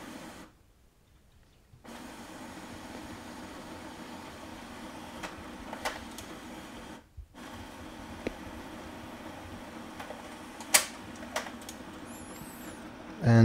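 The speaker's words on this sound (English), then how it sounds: "The printer will take page by page your document." An HP LaserJet MFP M234sdw printer scans a document page by page, giving a faint, steady mechanical whir with short pauses between passes and small clicks, close by in a quiet room.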